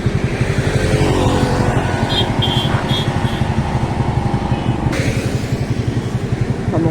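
Honda Dio scooter fitted with a modified silencer exhaust, its engine running loud and steady with a rough, pulsing low-end throb that holds throughout.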